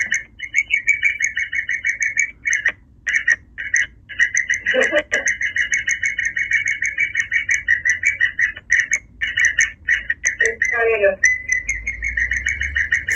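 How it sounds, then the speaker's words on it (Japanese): A parakeet chirps and whistles in a steady, bright stream of rapid tweets, close and loud, with a few short gaps and quick chattering bursts. "すごいインコだな。"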